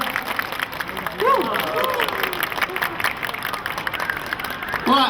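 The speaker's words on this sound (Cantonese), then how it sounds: "我俾掌聲佢" Audience applause at a student certificate ceremony, steady broadband clapping that swells near the start and again at the end, with voices talking over it throughout.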